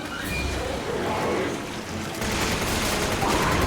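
Rapid gunfire from shooting enemies in a video game, a dense, continuous barrage of loud shots that runs throughout, with a brief dip before the firing picks up again even harder.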